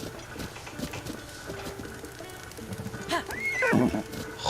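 Horse neighing in Zelda Breath of the Wild, a short, loud whinny near the end, preceded by hoof clip-clops and game ambience.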